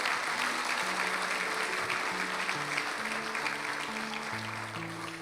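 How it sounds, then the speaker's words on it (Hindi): Sustained applause from a church congregation at a Resurrection Day sermon, a dense, steady wash of clapping with tonal music notes playing underneath and tapering slightly toward the end. "जोरदार तालियां।"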